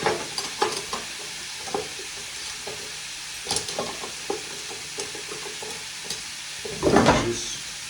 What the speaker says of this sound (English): Get those mushrooms in contact with the heat.